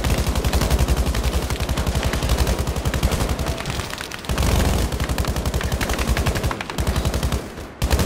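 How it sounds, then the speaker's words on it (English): Rapid, continuous automatic gunfire in Battlefield 5, dense repeating bursts of machine-gun shots laid down as suppressing fire, loud and near with only brief pauses. "but we're still laying down suppressing fire"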